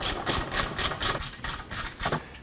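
A ratchet with an extension and 10mm socket works a bolt loose on a 2018-2024 Toyota Camry 2.5L front axle area, giving about ten evenly spaced rasping clicks in a quick rhythm, close and fairly loud.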